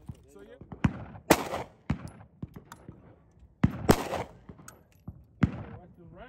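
Shots from a small handgun on a firing range ring out in bursts, several sharp loud reports spaced irregularly across the span, with faint background voices between them.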